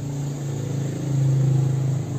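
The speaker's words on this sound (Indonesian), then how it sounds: "ini suaranya itu waktu idle mesin tuh seperti helikopter, dug dug dug dug dug" A Honda PCX 160 scooter engine idles steadily in a low, throbbing drone, close and moderately loud, with no voices.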